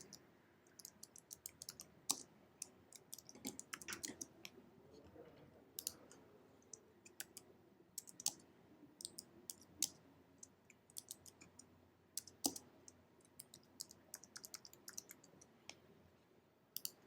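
Computer keyboard typing while filling in a school admission application form, faint, quiet, irregular clicks and short bursts of keystrokes spread across a near-silent background.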